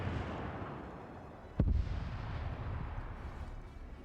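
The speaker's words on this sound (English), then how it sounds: "These guys are taking some long range fire as they advance." In a World War II strategy game, long-range gunfire booms once as a single deep, distant thump over a low rumbling battlefield ambience.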